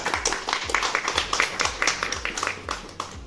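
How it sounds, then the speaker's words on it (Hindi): On the behind-the-scenes set of the TV series Maddam Sir, a group applauds the cast with lively, rapid clapping. The claps are dense and close, with soft low thumps and a little chatter mixed in. "मैडम सर ताली हो जाए एक बार जोरदार"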